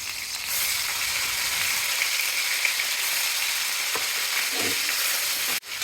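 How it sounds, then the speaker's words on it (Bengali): Fish frying with black cumin, sliced onion and green chili in hot oil gives off a steady, close sizzle that holds evenly throughout, with a couple of faint utensil knocks near the end and no voices. "এভাবে ভেজে নেওয়া হবে। মাছ রান্না হবে, দিয়েছে কালো জিরা"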